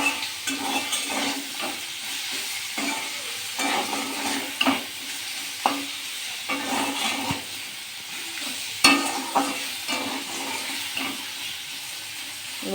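A cauliflower masala with tomato fries in a karahi while a spoon stirs it, repeated scraping strokes in an irregular rhythm over a constant close sizzle, with no talking.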